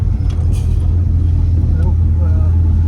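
A 1967 Pontiac GTO is under way, its loud, steady low engine rumble and road drone filling the cabin, with a faint voice briefly under it.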